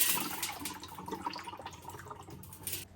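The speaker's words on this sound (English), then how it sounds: "if you already shake your balancer and you could hear the water inside" Water sloshes and trickles inside a Kenmore washer drum balancer as it is shaken, a faint, close, uneven liquid swishing with no talking.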